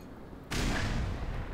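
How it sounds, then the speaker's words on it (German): Grenade blast in the Black Mesa game, a sudden loud explosion bursting out after a brief quiet moment and rumbling on with a broad decaying roar. "Granate."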